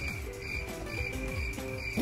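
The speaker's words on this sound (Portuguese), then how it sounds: "que é isso, é um grilo?" Cricket chirping in a Roblox game, a faint steady pulsing chirp repeating over a low background hum, alone without talk.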